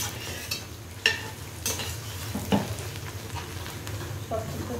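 Onions hiss and sizzle in hot mustard oil as a spoon scrapes and stirs them around the pan, with a few sharp clinks.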